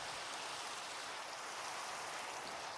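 Gentle rain keeps falling in a cozy cottage video game, a faint, continuous wash of pattering drops that holds steady throughout with nobody speaking.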